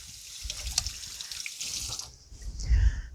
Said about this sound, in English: I'm going to give my hands a rinse real quick